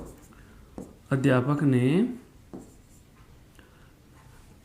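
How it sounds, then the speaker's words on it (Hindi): Handwriting an example during a Hindi grammar lesson: faint, soft scratching strokes, close, continuing around a brief spoken word. "फिर मैं अगला उदाहरण लिख रहा हूं"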